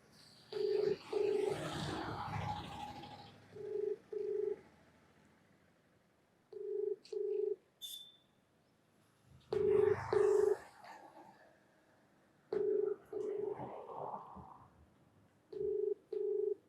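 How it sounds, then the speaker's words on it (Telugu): A mobile phone call to a municipal department office, repeating ringback tones in regular pairs of beeps every few seconds, with muffled voices talking faintly in between. "నేను ఒకసారి అయితే కాల్ చేస్తున్నా, డీసీ మున్సిపల్ డిపార్ట్మెంట్ డీసీకి కాల్ చేస్తున్నా"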